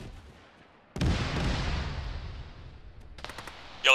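Rocket fire and gunfire in a military video game, a sudden loud blast followed by a long rumbling decay, then a quick burst of sharp shots near the end.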